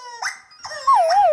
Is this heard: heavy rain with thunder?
no